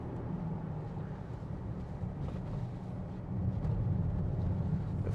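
A 2016 Infiniti QX70 3.0d V6 diesel with automatic gearbox and four-wheel drive, heard from inside the cabin while driving: a steady low engine drone with road rumble that swells a little louder near the end, no talking.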